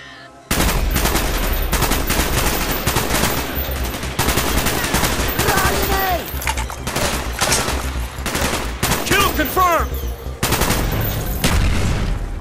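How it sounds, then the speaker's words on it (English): Rapid gunfire from the game Call of Duty: Black Ops, mission Payback, rattles in loud sustained bursts, with machine-gun fire and whooshing shots layered over a constant rumble of a helicopter in combat. "Mason, fire when ready."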